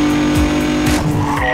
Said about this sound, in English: We have a report of a vehicle moving at a high rate of speed, heading south.